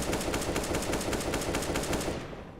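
Rapid automatic gunfire rattles in a Counter-Strike video game match, a fast, even burst of shots lasting about two seconds before cutting off.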